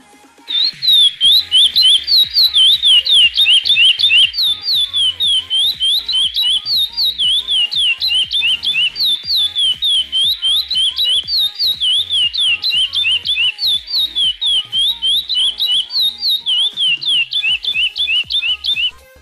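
A chestnut-bellied seed finch (curió) sings a long, continuous run of rapid whistled chirps and warbles in the praia clássico song style, loud and close, with almost no pause for nearly twenty seconds.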